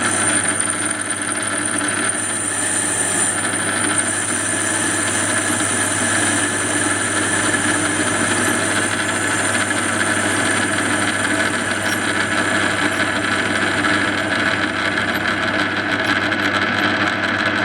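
Metal lathe turning an adaptor plate for mounting motor end shield castings, facing the centre out to take a flange: a steady, loud mechanical hum and whine with constant tonal lines, running unbroken throughout.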